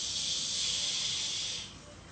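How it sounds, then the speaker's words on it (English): A long, steady shushing exhale, a breathy hiss that holds evenly for over a second and a half before easing off; no talking. "Shushing sound as you draw your leg out to the side."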